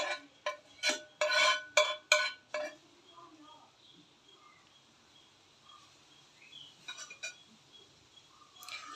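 A spoon spreading egg bun mixture in a pan over low flame, opening with a quick series of sharp scraping clinks, then quieter intermittent taps and scrapes against soft background noise.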